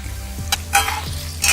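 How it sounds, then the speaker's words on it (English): Chopped besan gatte shallow fry in oil in a pan over a medium-low flame, a close sizzle broken by a few quick scraping stir strokes in short bursts. "add the besan ke gatte that we have chopped. So we need to shallow fry them first."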